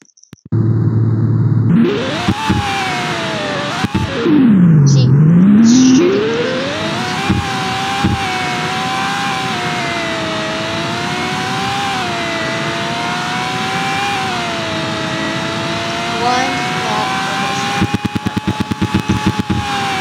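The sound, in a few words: car engine revving in video game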